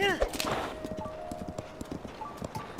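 Horse hooves clip-clop in the video game The Legend of Zelda: Tears of the Kingdom, a steady rhythmic trot under game music and ambience, with a voice talking over it.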